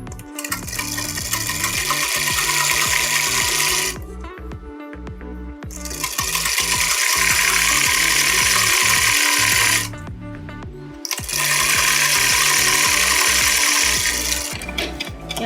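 Sewing machine stitching the pocket seam of ladies' trousers, running in three long bursts of steady whirring with two brief pauses between them, loud and close with no talking.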